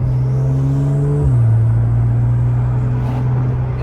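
A Porsche engine fitted with a new exhaust system pulls hard under acceleration, a loud steady drone that drops in pitch briefly around a gear change and then holds strong and close, with no talking over it.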